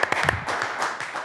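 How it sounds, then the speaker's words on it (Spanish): A studio audience on a late-night talk show claps after a piano performance, a brief burst of clustered hand claps that settles into a softer, even patter. "El aplauso para ustedes."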